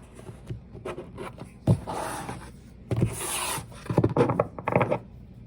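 A deck of Rumi cards is shuffled by hand in bursts of papery rubbing and riffling, close up with short pauses between passes and no talk.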